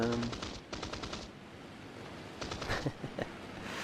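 Cannon and machine-gun bursts from a Typhoon 1b/L fighter in War Thunder simulator battles during the Ruhr event, a few rapid rattling volleys at moderate level over constant engine drone.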